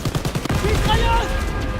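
Dense machine gun fire in the Call of Duty WWII video game, a rapid burst of shots and battle noise running steadily throughout under shouted voices.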